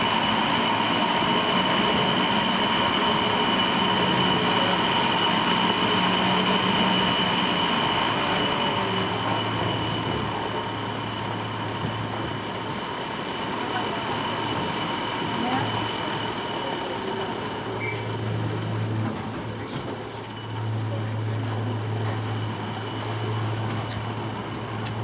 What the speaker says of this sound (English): Cliff railway detected.